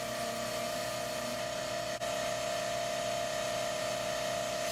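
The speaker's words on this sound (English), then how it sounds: "Damn, that compressor's loud." An air compressor runs loudly in a workshop, a constant close mechanical drone with a steady motor hum and one brief dip, nobody speaking.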